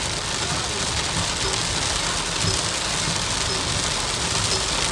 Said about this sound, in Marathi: एवढा पाऊस चालू झालाय विचारता सोय नाही. मोठा पाऊस